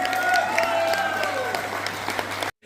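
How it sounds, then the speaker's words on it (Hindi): An audience at a training event in Jaipur applauds with dense, continuous clapping. Voices and tonal sounds ring over it before it cuts off abruptly near the end. "तालियां रुकनी नहीं चाहिए फ्रेंड्स।"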